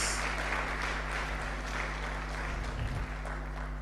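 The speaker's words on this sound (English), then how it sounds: "Let's continue clapping for her as she takes her seat." At a public leaders' alumni network gathering, an audience keeps clapping as a woman returns to her seat, a continuous muffled applause over a strong low electrical hum.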